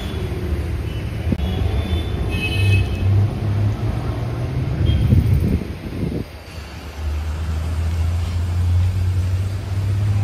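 Mumbai street traffic near the Bombay High Court rolls past with a steady engine rumble and road hiss. A vehicle surges by midway, and a low idling drone follows, close and continuous.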